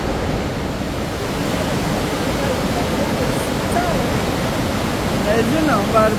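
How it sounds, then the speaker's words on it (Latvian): Waterfall inside a narrow rock gorge tunnel in Switzerland, a loud continuous rushing roar that echoes off the walls, with faint bird chirps above it near the end. "Priekšā ir ūdenskritums."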